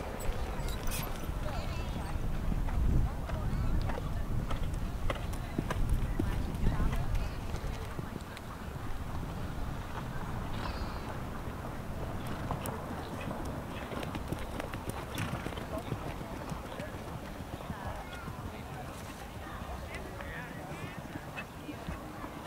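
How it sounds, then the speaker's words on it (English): Horses canter around a show riding ring, their hoofbeats clopping in a steady rhythm under a public-address voice, with a horse whinnying and a few honking ducks in the background. "Canter your horses, please."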